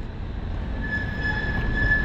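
A number 9 tram arrives at a stop in Zagreb, Croatia, rumbling in with a low steady roar and a thin high wheel squeal, growing slightly louder as it approaches.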